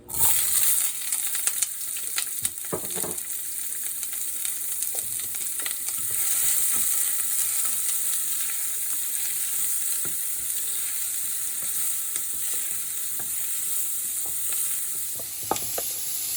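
Chopped bell pepper and onion fry in a pan for salmon bouillon, giving a steady bright sizzle throughout, broken by occasional scraping stirs and clinks of a utensil.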